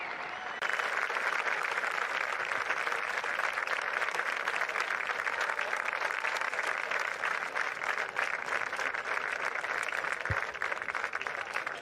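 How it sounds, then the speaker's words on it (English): Sustained crowd applause and clapping at the final round of the disc golf European Championships, a steady dense wash of hands lasting throughout without pause. "Listen to the crowd."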